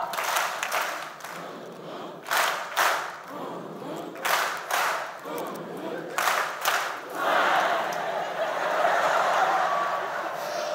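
A teachers' workshop audience performs a group clap routine, several sharp clustered bursts of clapping separated by pauses, with cheers, laughter and crowd chatter swelling toward the end.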